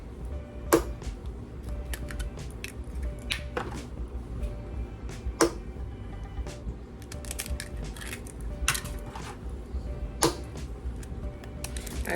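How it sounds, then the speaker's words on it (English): Eggs cracked one after another into a bowl, sharp distinct taps spaced a couple of seconds apart over faint background noise, with no talking. "I'm gonna crack my eggs."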